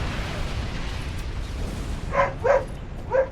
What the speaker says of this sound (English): Okay, dog's barking.